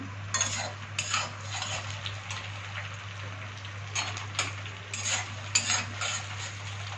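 Knife chopping vegetables on a board beside onions frying in a pan, heard as irregular clattery taps and scrapes over a steady low hum, moderately close, with no talking.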